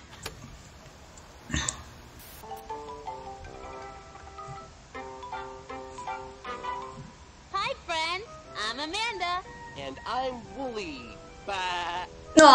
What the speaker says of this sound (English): Made an animal sound. Yeah! Said ba, because he is a sheep.